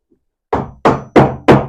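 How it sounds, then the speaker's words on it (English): Tongue-and-groove floorboard tapped into place using an offcut, four sharp wooden knocks in quick, even succession, close and loud. "Sometimes it needs a bit of a tap,"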